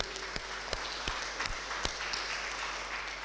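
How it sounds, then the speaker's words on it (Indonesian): A church congregation applauds during a Sunday morning worship service, a steady wash of clapping with a few sharper nearby claps standing out, continuing throughout with no talk over it. "Tepuk tangan untuk Tuhan Yesus."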